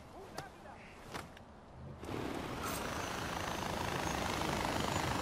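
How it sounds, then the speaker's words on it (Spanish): In the video game Far Cry 4, a helicopter comes down to land: a few thuds, then a loud steady rotor and engine roar that fills the rest of the scene. "Perfecto, vamos a poner el helicóptero. Vamos a aterrizar ahí en medio."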